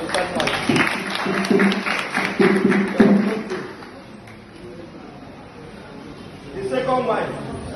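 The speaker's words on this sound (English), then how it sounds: "Can we clap for the first wife?" Audience clapping for a storytelling performance, a few seconds of dense applause mixed with speech, fading into quieter room sound before voices return.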